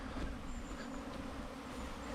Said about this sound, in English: the bees are working fine